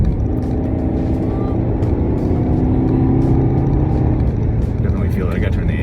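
Engine of a 2016 Volkswagen Passat S fitted with a Neuspeed power module, droning steadily from inside the cabin as the car drives and picks up speed, with road rumble underneath.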